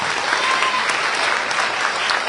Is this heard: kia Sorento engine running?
no